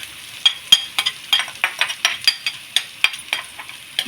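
Onions fry in a pan, with a series of sharp crackling pops and scrapes repeating at a quick uneven pace, close and moderately loud, with no talking.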